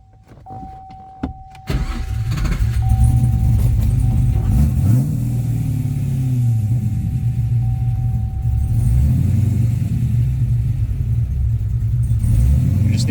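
A Cadillac CTS-V with a new exhaust fires up after a few faint clicks, then settles into a loud, steady, rumbling idle that holds for about ten seconds.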